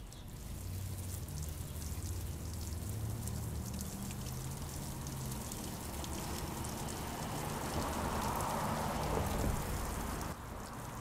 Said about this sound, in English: I wanted to just let this rain run for the entire time that I actually got rained on